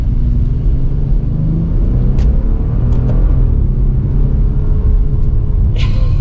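A Bentley Continental GT Speed, a large luxury car, pulls hard with a deep, steady engine rumble heard from inside, plus a few faint clicks and a brief whoosh near the end.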